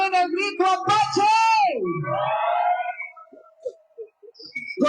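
A concert crowd at La Petatera in Colima lets out the Apache yell during a show: a loud, wavering, drawn-out shout whose pitch swoops down, trailing off into scattered calls and whoops.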